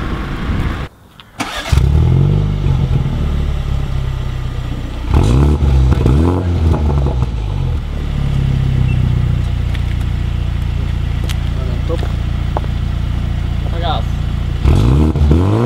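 A 2019 BMW Z4 sDrive20i roadster drives off with the top down, its engine revving through several rising acceleration sweeps, then settling into a steady drone of cruising road noise.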